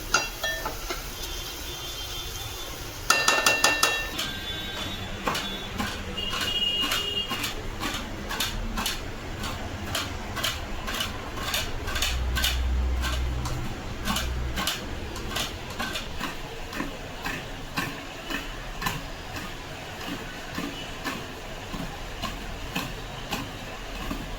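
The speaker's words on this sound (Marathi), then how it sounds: "कांदा भाजेपर्यंत आपण खोबरं किसून घेऊया." Coconut is grated by hand in a home kitchen, a steady run of rapid scraping ticks going on for the whole stretch over a constant background hum, fairly close and moderately loud, with no talk.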